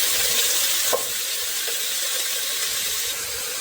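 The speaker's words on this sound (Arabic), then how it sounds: "مهم جدا إن نجلس نقلبها لمدة أقل من 5 دقائق، علشان اللحمة تطلع كأنها مشوحة مش مسلوقة." Meat for Yemeni fahsa sizzles and fries in a pan with a steady hiss, broken by a few stirring scrapes.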